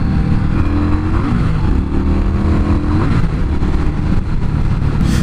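A 2016 Indian Scout motorcycle engine under way in 4th gear gives a loud, steady rumble that holds nearly constant throughout, with rushing wind mixed in.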